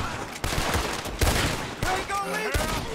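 Rapid bursts of gunfire from the Red Dead Redemption 2 video game crackle in a dense fusillade, with game sounds and a faint voice mixed in.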